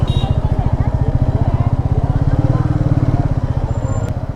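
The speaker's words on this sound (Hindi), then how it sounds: "अभी बाइक यहाँ से ऊपर चढ़ ही नहीं रहा है" Motorbike engine labouring uphill after bad petrol on a mountain road near Manali, a loud, rapid, even thumping beat that holds steady throughout with a faint voice in the background.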